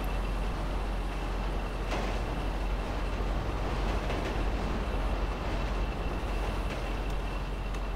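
A train passing in the video game GTA 5 Online gives a dense, steady rumble and rattle of wheels on track. It holds at constant loudness throughout, close by, with faint metallic clatter on top.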